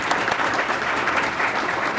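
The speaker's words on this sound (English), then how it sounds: "Can you please give a big round of applause?" At a Korean traditional music performance, a room full of people claps steadily, a dense, even wash of applause that holds at full strength for the whole moment.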